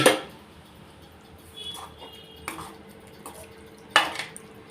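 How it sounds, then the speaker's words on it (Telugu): Boiled and cooled milk is poured into a ridge gourd and spinach curry on a stove set low, then stirred, giving a few distinct clinks of a utensil against the pan over a soft, quiet bubbling background. "ఇప్పుడు ఇందులో ఆల్రెడీ కాచి చల్లార్చిన పాలను నేను వేస్తున్నాను"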